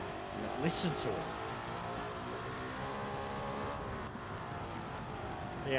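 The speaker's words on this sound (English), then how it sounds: "Look at this piece of history I'm driving. 1955 W196 Mercedes." A 1955 Mercedes W196 race car engine in Gran Turismo 7 drones steadily at high revs, with a voice talking over it throughout.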